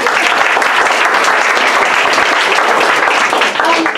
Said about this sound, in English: So give her a hand of applause.